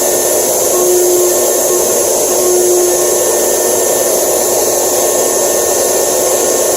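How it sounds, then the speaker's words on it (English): Harbor Freight belt sander running with a vacuum cleaner hooked up for dust collection, giving a loud, steady, high whine over a constant rushing hum, close by and with no talk. "The vacuum cleaner is really noisy."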